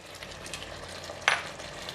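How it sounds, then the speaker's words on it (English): Spring onions drop into a pan of thick, sizzling braised pork sauce with winter melon, giving one short bright sizzle burst over a steady low frying hiss. "And now I am putting in all the spring onions."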